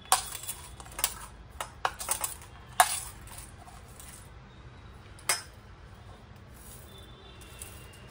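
Ingredients such as puffed rice are tipped into a bowl, giving a scattered series of light clinks and rattles at close range, most of them in the first few seconds and another a little later, against a quiet background.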